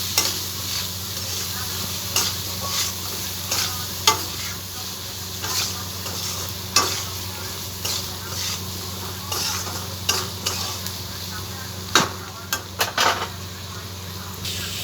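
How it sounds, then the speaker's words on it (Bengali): Spice paste with chilli and cumin powder sizzles in a pan while a spoon stirs it, scraping and clinking against the metal in repeated strokes over a constant frying hiss, close and without talk. "এবার আমরা মশলাটাকে একটু কষিয়ে নেব"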